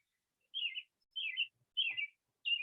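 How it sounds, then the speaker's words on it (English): Birds chirp in four short, bright bursts spaced about half a second apart, fairly close and clear against an otherwise quiet background with no talking. "got the birds are chirping"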